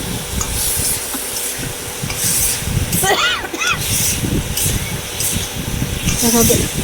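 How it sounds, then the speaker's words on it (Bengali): Ginger-laced spice paste sautés in oil in a kadai for a Bengali fish curry with potato and drumstick, giving a steady, fairly loud frying crackle with stirring scrapes throughout. "আমি ভালো করে একটু কষিয়ে নেব তো খুব বেশি কষাবো না"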